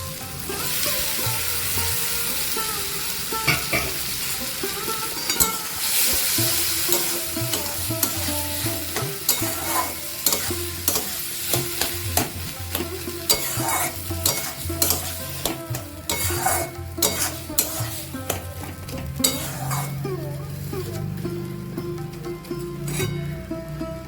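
Boiled lentils going into a pan for dal chorchori, with steady close sizzling and frequent clinking, scraping strokes of a spoon against the pan throughout, busy and continuous with no talking.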